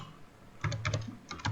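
A few quick keystrokes on a computer keyboard, tapped in two short bursts after a brief quiet moment, close and crisp with no voices.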